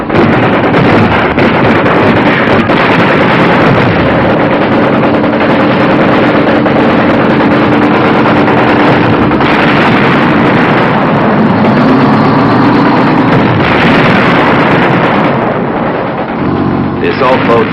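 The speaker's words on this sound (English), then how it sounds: "The assault boats hit the shore," Military assault boats run their engines toward a river shore during a landing operation, a loud, steady roar with wind buffeting throughout and no voices.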